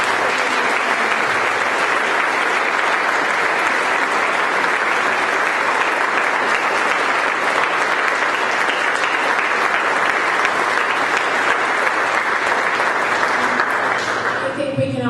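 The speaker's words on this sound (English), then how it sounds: "Could we just give all of our excellent candidates a round of applause?" Sustained, loud applause from an audience at a candidates' forum, a dense unbroken wash of clapping and crowd murmur lasting many seconds before tapering off at the end.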